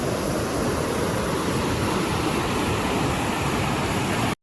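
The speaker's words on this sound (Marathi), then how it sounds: "ओव्हरफ्लो झालं आहे पाणी, बघा किती जातं आहे ते खाली." Water from the overflowing Aruna dam in rainy-season Konkan rushes down in a loud, steady, dense roar that holds constant throughout, with no one speaking.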